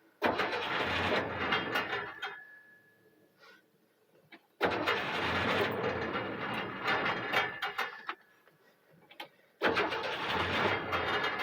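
An old vehicle's engine cranks and catches in three loud bursts, running roughly for a few seconds each time before dying away into near silence between attempts.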